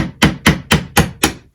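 Chisel struck with a hammer through wood in a farmhouse kitchen: five sharp, evenly spaced knocks in quick succession, close and loud, each ringing briefly before the next.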